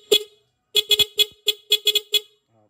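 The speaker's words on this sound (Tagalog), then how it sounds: "Ganda ng busina natin" Motorcycle horn wired through a plug-and-play Shinigawa interrupter: one short honk, then a rapid string of about eight pulsed blasts, loud and close with no talking.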